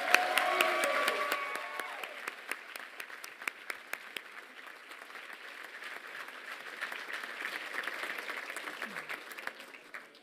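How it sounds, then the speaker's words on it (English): Applause fills a college commencement ceremony, a broad, sustained wash of many hands clapping with distinct individual claps standing out, moderately distant and steady for about ten seconds. "So let's give him one more round of applause."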